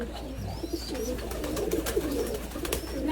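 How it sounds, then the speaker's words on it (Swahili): Common domestic pigeons kept by a livestock keeper coo close by, a low repeated throaty murmuring over a steady low hum, with occasional faint chirps and no talk. "kama hawa njiwa ambao unawafuga hapa, ni njiwa aina gani? Ni njiwa kawaida, koko tu."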